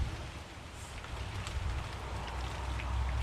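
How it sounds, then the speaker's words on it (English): Slow rain mixed with light flurries falls outside, a soft, even patter of drops on surfaces with a faint, steady wash beneath. "Yes, it's rain, but it's coming down slow. It's partially flurries."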